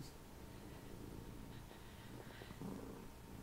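A pet cat purrs close by as a faint, steady low rumble that runs throughout, with no talk over it.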